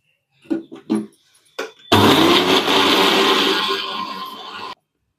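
A mixer grinder powders sugar and cardamom, giving a few short pulsed bursts followed by one loud, continuous whirring grind of about three seconds that stops abruptly.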